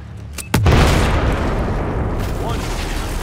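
A grenade blast in Battlefield 4 lands as one sudden deep boom, followed by a long rumbling roar that slowly fades under a shouted voice.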